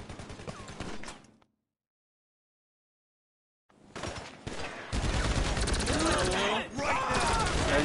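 Loud gunfire from a firefight in GTA 5 Online, with a few opening shots, a sudden total silence, and then a dense, sustained barrage that keeps rising and fills the rest of the stretch.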